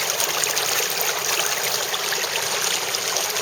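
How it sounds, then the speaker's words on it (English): Water rushes steadily and loudly through a homemade gold sluice lined with riffles, a dense, even flow with no pauses. "This one, another homemade sluice with a lot of riffles in there."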